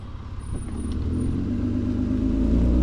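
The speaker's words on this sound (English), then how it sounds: "My car is definitely taking a beating." Car driving along a rough off-grid track, its engine droning steadily and slowly growing louder, with low rumbling and a few faint knocks from the uneven ground.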